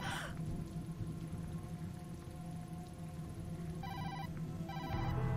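A mobile phone rings in the video game Tokyo Dark, its electronic ringtone bursting out in two short repeated bursts over a low droning ambient background, fairly faint and with no talking.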